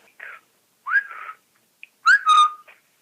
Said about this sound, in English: The whistle. That's cool.